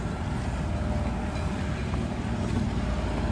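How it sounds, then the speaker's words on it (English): A tractor-pulled tram shuttle rumbles along at a beach resort, giving a steady, loud low engine drone with broadband rattle and wind noise that holds constant throughout, with no talking. "Tram via tractor."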